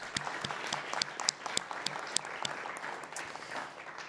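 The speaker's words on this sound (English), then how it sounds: "Let's give all of our sponsors a round of applause." A small crowd claps steadily for a few seconds, individual claps distinct and fairly close, without cheering.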